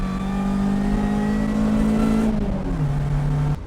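A supercharged BMW 1600-2 road car engine revs loudly and steadily up close, a strong droning note that holds and then drops in pitch as the revs fall near the end.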